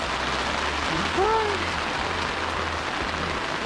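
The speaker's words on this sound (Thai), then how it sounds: "ฝนมาแบบช่วยทำให้เราสบายขึ้นเยอะเลย" Steady rain hisses on tent fabric and surfaces at a campsite in Phetchabun, Thailand. A low engine-like drone runs underneath, and a brief chirping call rises over the rain.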